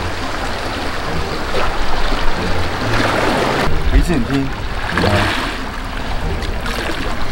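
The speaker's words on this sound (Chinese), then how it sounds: "海浪的声音啊" Sea waves washing against a rocky shoreline at a coastal fishing spot, a steady, fairly loud surging rush that runs under several people talking.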